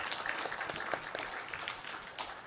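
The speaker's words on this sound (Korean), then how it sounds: "격려의 박수를 드리겠습니다" A church congregation claps in a short, fairly faint round of applause, a scattered patter of many hands with a few sharper claps standing out.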